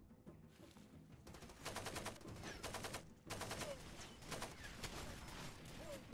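An AK-type rifle in the video game Far Cry 2 fires in rapid automatic bursts, a clear run of close, evenly spaced shots that repeats over several seconds, quiet overall, with faint bird calls in the background.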